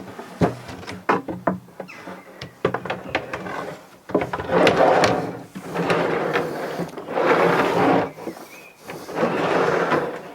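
Wooden drawer of a DIY van bed sliding on rollers, making a series of close, intermittent rumbling runs and sharp knocks and clicks as it moves in and out, with no voices.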